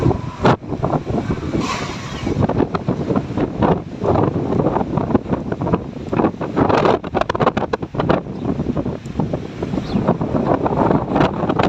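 Heavy storm wind and rain sweep through a rural area, with strong gusts roaring and buffeting the microphone in uneven surges and a dense, continuous rush beneath, loud and unbroken throughout.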